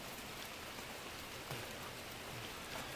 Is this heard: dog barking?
no